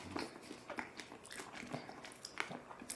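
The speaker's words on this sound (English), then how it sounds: "It's a lot of chewing." Someone chews a dried California mission fig with a cracker and brie-style cheese, close to the mic: steady, faint, moist chewing with small crunches from the seeds over three seconds, no talking.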